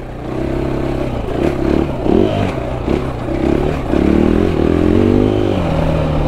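A KTM EXC-F 500 dirt bike being ridden during break-in gives a loud, steady engine drone that rises and falls as the throttle changes, with some rattling and clatter over it and no talk.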